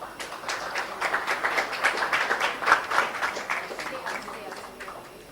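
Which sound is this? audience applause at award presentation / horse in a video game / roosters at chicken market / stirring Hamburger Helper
audience applause at award presentation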